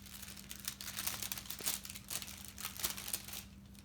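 Disposable glove packaging is unwrapped in a clinical wound-care setting, giving a close, steady run of crinkling and crumpling plastic or paper with several louder rustles and no talk.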